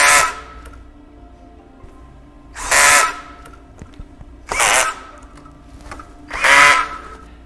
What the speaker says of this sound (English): To avoid having a wobbly desk, make sure that you tighten the screws thoroughly.